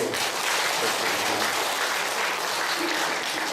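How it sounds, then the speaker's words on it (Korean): A church congregation at a national gathering giving applause in praise, a loud, dense and continuous round of clapping from a large crowd, sustained evenly throughout. "자, 우리 하나님께 영광의 박수."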